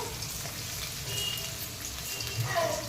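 Chopped onions drop into hot oil in a pan while cooking a Rayalaseema-style chicken fry, giving a steady soft sizzle with faint crackles and a brief clink near the end.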